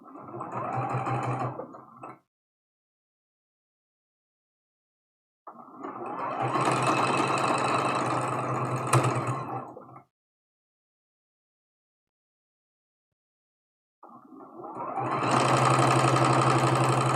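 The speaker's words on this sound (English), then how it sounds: "And then we'll sew it." A sewing machine stitches pieces of a scrappy spool quilt block in three steady whirring bursts of about two, four and three seconds, separated by quiet pauses, close and fairly loud.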